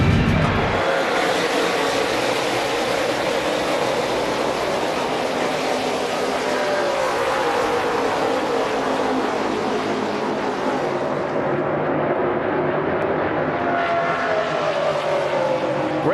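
NASCAR stock cars thunder off the line at the start of a night Chase race at Charlotte, a continuous, loud engine roar that fills the whole stretch with no break.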